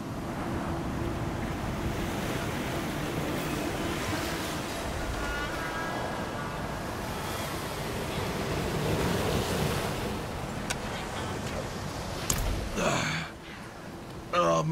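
Rising water and rolling waves in the Diablo IV video game, a continuous wash of surf and windy rush lasting most of the clip, fairly loud and close, with a brief louder splash near the end.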